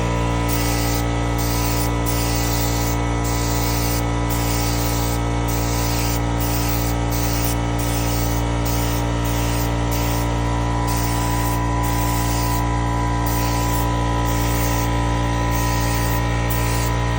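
A spray gun lays a light first coat of paint on a 2011 Nissan Sentra, a loud, constant hissing spray over a steady compressor drone, with faint rhythmic breaks in the hiss, and no voices.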